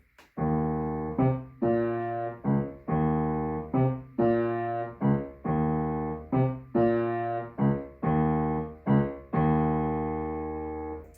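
A piano duet part played alone in a bouncing long-short rhythm, repeated chords struck evenly and clearly for about ten seconds, no talking.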